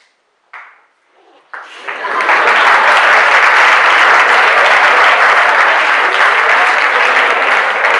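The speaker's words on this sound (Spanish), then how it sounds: "Pueden aplaudir" Audience applause in a secondary school hall, starting after a short ringing tone and a quiet pause, then swelling into loud, dense clapping from a large crowd that continues steadily to the end.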